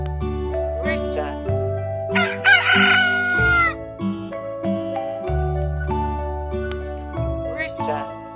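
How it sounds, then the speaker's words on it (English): A rooster crows once, loud and clear, partway through a children's English animal-vocabulary lesson, over bouncy background music with a voice nearby. "Rooster,"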